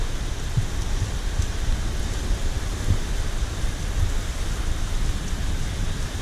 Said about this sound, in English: Still raining and blowing.